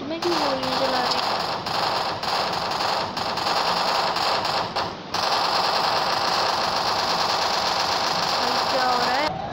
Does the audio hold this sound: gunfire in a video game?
yes